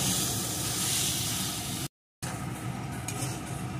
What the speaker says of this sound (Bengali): এখন পেঁপেটাকে সুন্দর করে ভেজে নেব।